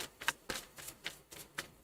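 A tarot card deck being shuffled, quiet close riffling and tapping in several quick bursts with short gaps between them.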